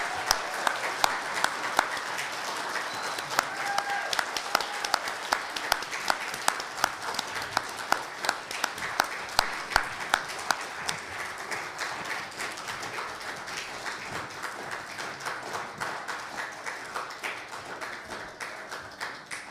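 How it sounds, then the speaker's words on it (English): A church congregation claps warmly during a Sunday service, sustained applause with a dense, steady patter of many hands that holds for the whole stretch, close and fairly loud, no talk over it. "The rest of us will give a heartfelt applause."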